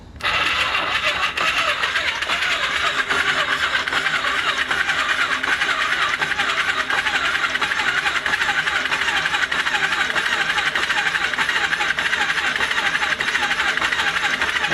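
A Cannondale motorcycle engine with reduced cylinder compression cranks steadily on its electric starter, a continuous loud whirring churn that runs unbroken for about fifteen seconds with no voices.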